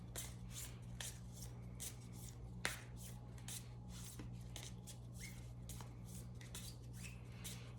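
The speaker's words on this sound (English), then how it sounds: "as I'm shuffling the cards" Cards are shuffled in quick, soft riffling bursts that repeat at a steady rhythm close by and faint, over a constant low electrical hum, with no talking.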